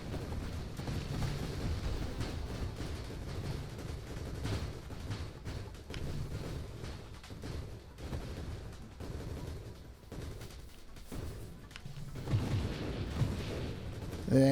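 Mines in the space shooter Nova Drift charge and detonate, producing a dense run of booming blasts and crackling bursts over about fifteen seconds, irregular and clustered, with some talking underneath.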